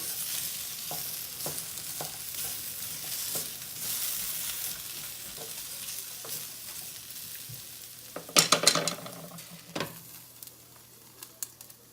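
Potatoes frying in a cast iron pan, a steady soft sizzle broken by scraping stirs, with a burst of louder spatula scrapes and clatter near the end.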